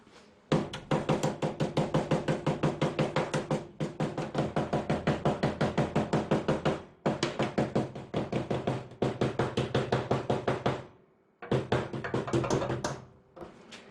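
Hammer blows knocking down ridges in the sheet-metal fender of a Datsun 510, rapid rhythmic metallic taps in long bursts separated by brief pauses, close and fairly loud with no talk.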